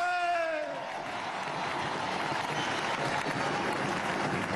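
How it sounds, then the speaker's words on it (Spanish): Steady applause from a large crowd at a political rally proclaiming a presidential candidate, dense and sustained, with a voice trailing off at the start. "Un aplauso para María León"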